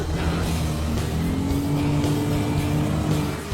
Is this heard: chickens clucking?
no